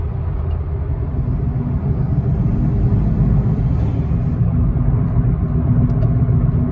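2016 Cadillac ATS engine droning steadily from inside the cabin while gears are changed with retrofitted paddle shifters, a constant low rumble with little change in level.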